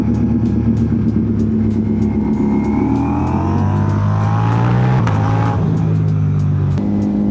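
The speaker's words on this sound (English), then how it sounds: "It also revs out really high" A loud motorcycle engine revving hard, pitch climbing steeply and then dropping, with a steady roar throughout and brief gear-shift breaks.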